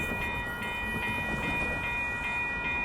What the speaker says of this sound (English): here it comes. Amtrak Capital Corridor train 529